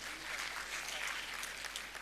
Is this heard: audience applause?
yes